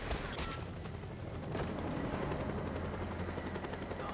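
A helicopter in the video game Just Cause 2 whirs steadily with rotor chop, a continuous, fairly quiet mechanical drone with a few faint bursts that could be distant gunfire.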